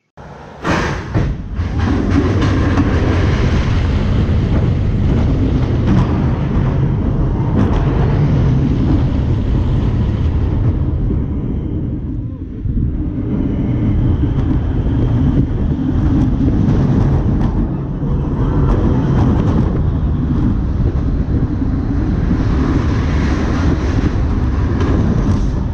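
Silver Bullet, a B&M roller coaster, heard from a rider's seat as a loud, continuous roar and rumble of wheels on track for the whole ride, with a brief dip midway and wind noise throughout.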